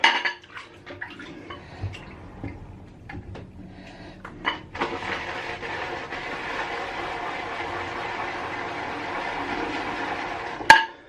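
Olive oil and jojoba shaving soap is worked into a lather, first soft scrapes and clinks, then a steady, close, scratchy whirring that runs to the end and closes on a sharp knock.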